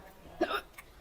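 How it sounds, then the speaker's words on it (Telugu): A single hiccup at a meal of biryani, one short close catch of breath in an otherwise quiet moment. "నాకు ఎక్కిళ్ళు వస్తున్నాయి."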